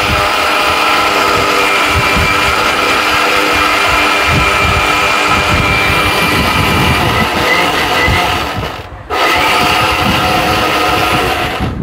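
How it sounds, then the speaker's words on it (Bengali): An electric blender grinds seeds into a paste with a loud, continuous whirring roar that cuts out briefly near the end and then starts again. "এই দানাটা সহ এই ব্লেন্ডারে পেস্ট হবে।"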